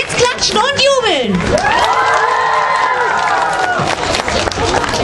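Children, joined by parents, cheering and shouting at a kids' show, a loud crowd roar with high excited voices rising and sweeping across the whole clip, clapping mixed underneath.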